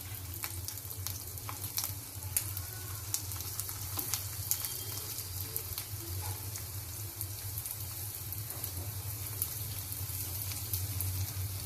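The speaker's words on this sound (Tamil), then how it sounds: "இதை வறுத்து எடுத்து வச்சுக்கணும்." Dried red chilies, urad dal and asafoetida powder dry roasting in a pan for kothamalli podi, giving a steady, quiet crackling sizzle with occasional small pops and a low hum underneath, with no voices.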